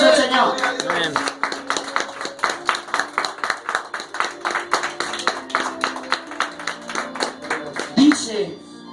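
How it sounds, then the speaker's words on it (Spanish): A church congregation claps together in a steady, even rhythm at a Spanish-language Christian sermon, the loud claps repeating in a close, regular beat with voices calling out across the hall. "Dale un fuerte aplauso al Señor."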